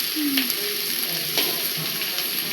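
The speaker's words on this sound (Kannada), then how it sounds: "ಸೊಪ್ಪು ಎಷ್ಟೊತ್ತು ಫ್ರೈ ಮಾಡಬೇಕು? ಒಂದು 10 ನಿಮಿಷ ಆದ್ರೆ ಸಾಕು." Dill leaves fry in a pan with a steady, fairly loud sizzle and a couple of soft utensil scrapes and clinks.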